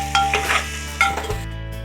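Spices and salt are stirred together in a cooking pot, with several distinct scrapes and clinks of a utensil against the metal over a low sizzle and a steady background hum.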